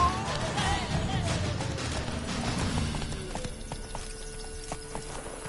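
Roach the horse galloping in The Witcher 3, a steady rapid clip-clop of hooves with a brief whinny, close and loud over a busy battle soundscape with faint background voices.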